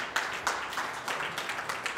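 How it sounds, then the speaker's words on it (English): An audience at a StahlstadtJS Angular meetup applauds to welcome a speaker named Michael onto the stage, a steady close patter of clapping with slight swells, no voices. "Please give a big applause to Michael and welcome on stage."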